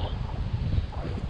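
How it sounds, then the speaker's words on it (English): Strong wind blowing snow across frozen Daniels Lake roars and buffets the microphone in a steady, rough rush with no voices. "Why is it so windy?"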